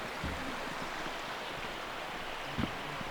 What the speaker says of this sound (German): Da unten an dem Bachlauf kann man frisches Wasser holen.